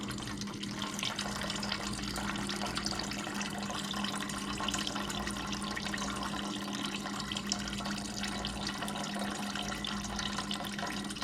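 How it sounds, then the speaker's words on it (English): Coolant poured steadily from a bottle into a funnel while servicing an overheating KTM SX / Husqvarna TC 50 minibike, a continuous close liquid trickle and splash with a low hum underneath, no talking. "I can control the flow just by opening and closing the cap, just so we don't run it over the funnel that I have here"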